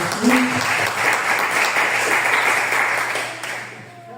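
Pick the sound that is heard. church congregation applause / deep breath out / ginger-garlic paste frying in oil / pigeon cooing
church congregation applause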